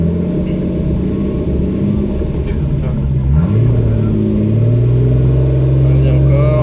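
A Ford Sierra XR4i V6 rally car engine pulling away from inside the cabin, a loud low rumble that rises in pitch as it accelerates, with people talking over it.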